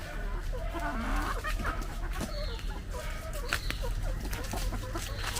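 Hens clucking in a backyard coop where eggs are being laid, repeated throaty clucks over steady background noise, fairly close and continuing throughout.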